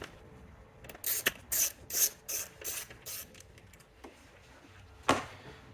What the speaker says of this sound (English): We need an 8mm to remove the bolt here.